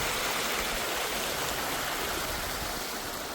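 Steady rushing water flows through a stream on a leisure farm in Sulaibiya, Kuwait, fed by a pump, a continuous broadband wash without pause.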